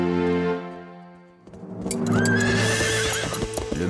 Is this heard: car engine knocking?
no